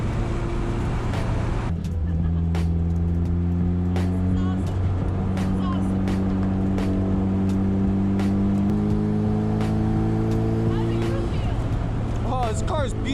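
A Mitsubishi Evolution race car at Thunder Hill East track gives a steady, loud engine drone with shifting harmonic tones as it cools down at moderate speed, continuous throughout with occasional voices.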